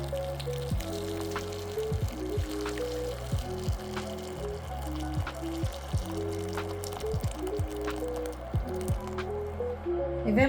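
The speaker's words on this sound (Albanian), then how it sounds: "Edhe hedhim 1 litër e gjysmë ujë." One and a half litres of water poured onto 500 grams of beef in a pot for Albanian tavë dheu, a steady splashing, gurgling fill with rising bubbly tones, close and continuous throughout.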